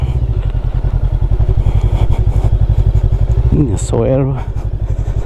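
A Macbor Eight Mile 500 Street motorcycle drones steadily during a test ride on a damp road, its engine pulsing loud and close while a rider speaks briefly over it.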